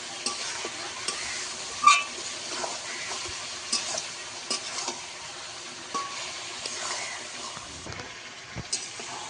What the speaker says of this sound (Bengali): মিনিট খানেক একসঙ্গে কষাবো আমি